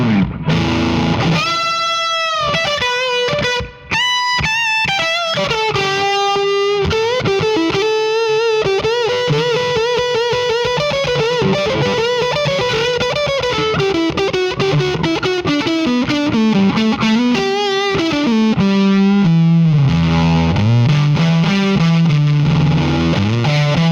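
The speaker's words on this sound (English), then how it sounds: "Let's do that all again with the spring reverb." Distorted electric guitar played alone through a Line 6 Helix on the Fullerton amp model into a Powercab, with a splashy spring reverb trailing each note and chord, loud and continuous throughout.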